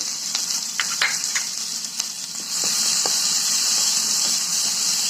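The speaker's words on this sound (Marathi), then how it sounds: "तेल गरम झाल्यानंतर आपण याच्यामध्ये हिरवी मिरची टाकून घेऊया" Green chilies hitting hot oil in a pan, a loud, steady sizzle that swells and holds strong after a couple of seconds, with a few light clinks of a spoon and no talking.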